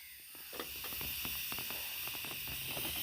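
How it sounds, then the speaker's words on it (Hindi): Chickpeas boil in a pot, giving a steady bright hiss of steam with scattered small pops and bubbling ticks throughout, close and fairly quiet. "मैंने इनको उबालने के लिए रख दिया है"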